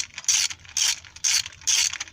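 Click-type torque wrench ratcheting during a cylinder head install on a 2005 Nissan Sentra 2.5L, four evenly spaced, crisp, close clicking bursts in quick rhythm.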